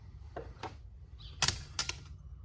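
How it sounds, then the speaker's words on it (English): Nippers snipping fret wire on a fretboard, a few sharp close clicks spaced apart, the last two louder and crisper, in a quiet room. "I come in here with my nippers, get right up close to the edge, and I cut them."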